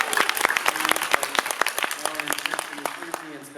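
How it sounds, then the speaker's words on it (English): Audience applause at a San Diego Comic-Con 2019 introduction to TV writing panel: a crowd of hands clapping together in a steady, fairly close wash that carries through the whole stretch before easing slightly. "Please give her a applause."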